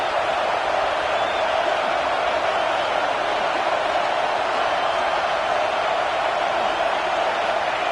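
Steady, loud stadium crowd roar in a Madden football video game during a college game with the Gators on third down, a dense continuous wash of cheering with no breaks or distinct voices.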